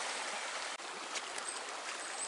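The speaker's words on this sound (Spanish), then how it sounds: "miren qué río más bonito está aquí" Water of a river flowing in a steady broadband rush, close and continuous, with no talk over it.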